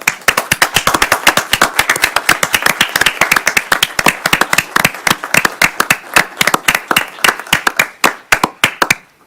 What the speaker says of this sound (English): if there was a spontaneous eruption of applause, I think we could allow